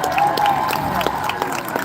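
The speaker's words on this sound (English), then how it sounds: "Let's give them a nice big round of applause." An audience claps and cheers at the SeaWorld San Diego orca show, with applause spread across a large crowd and a continuous dense patter of claps.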